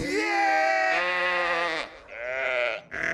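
Sheep bleat in a film trailer for The Sheep Detectives, several loud, close, wavering cries in a row with short gaps between them.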